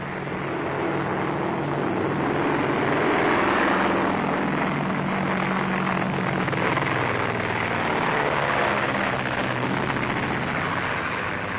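A propeller airplane drones overhead in a continuous, loud, broad hum that swells and holds steady for several seconds, with no talking.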